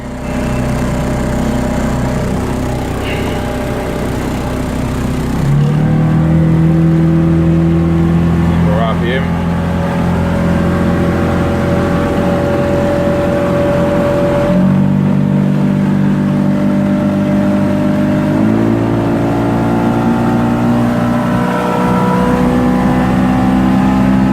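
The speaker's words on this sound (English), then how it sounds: "I can tell by the way the motor's running." A car motor running through a test run, droning steadily at first, then revving up in several distinct steps with clear rises in pitch, loud and close, while someone talks over it.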